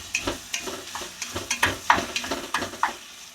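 Meat browning in a pan for tailgate chili, a steady sizzle broken by a rhythmic run of spoon scrapes and taps against the pan, close and fairly loud, with no speech.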